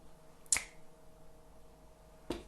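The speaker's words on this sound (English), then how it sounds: "snap my fingers" Two crisp finger snaps, close and isolated, the first at the start and a second a couple of seconds later, over a faint steady hum with no talking.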